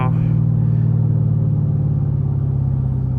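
A Chevrolet Camaro SS engine rumbles loud and close inside the cabin as it downshifts by paddle shifter, a deep steady drone with a brief blip at the start.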